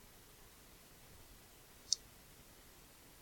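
A single sharp, faint computer mouse click sounds once against a quiet background.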